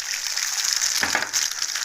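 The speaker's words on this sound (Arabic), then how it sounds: "يعني بنقلي البيضه ونسويها" An egg frying in a pan of melted local ghee, a bright continuous sizzle with a crackling burst about midway, close and steady throughout with no speech.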